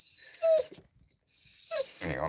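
Pet dog whimpering in high, thin whines: two short cries a moment apart, close by, with a faint yip and a person talking briefly near the end.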